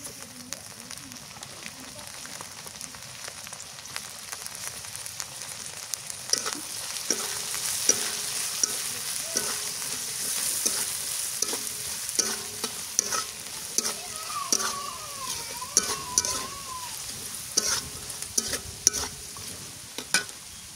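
Dried fish (shutki) frying in a pan, a soft continuous sizzle with stirring scrapes that grow busier after the fish goes in, close but fairly quiet, with a faint voice in the background.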